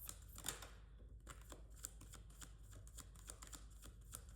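Tarot cards shuffled by hand in a steady run of soft, papery riffling flicks, close and fairly quiet, with no voices.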